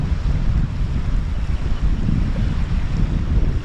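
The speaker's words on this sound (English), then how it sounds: "So it's quite windy." Strong, steady coastal wind roars and buffets the microphone during an outdoor cook-up, a constant low rumble with gusty texture throughout and no voices.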